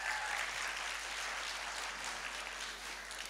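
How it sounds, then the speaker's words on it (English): Audience applause at a health talk, a steady wash of clapping filling the room for the full few seconds, fairly faint and distant. "give a big round of applause for Alex."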